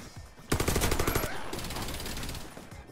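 Rapid automatic gunfire in a shooter video game, with a dense burst of shots up close and then lighter continued firing under a busy game soundscape.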